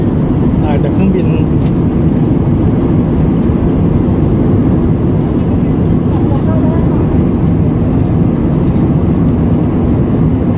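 Steady, loud airliner cabin roar in flight on a route out of Bangkok, a continuous low engine and airflow drone filling the whole stretch with no breaks.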